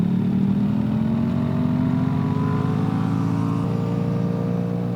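A BMW R 1300 GS motorcycle leaning through a corner, its engine a loud, steady close-up drone whose pitch rises gradually as it pulls through the bend.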